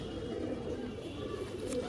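Dasu line pigeons coo in a low, steady murmur over a constant background hum, faint and continuous, with a voice briefly in the background.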